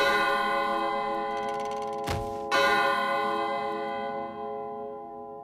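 Old clock bell ringing in a cartoon, a resonant metallic tone with rich overtones that rings out and slowly decays, broken by a brief sharp knock before the ringing resumes.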